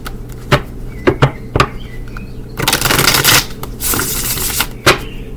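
Playing cards are shuffled up close, with sharp separate snaps and taps followed by longer riffling bursts, then a final crisp snap.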